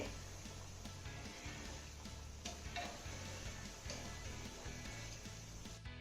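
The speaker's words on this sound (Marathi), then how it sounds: "यावरतीच हे वडे छान असे खमंग खरपूस सोनेरी रंगावरती तळून घ्यायचे" Banana vadas fry in oil over a low-to-medium flame, giving a steady, faint, dense crackle and bubbling throughout.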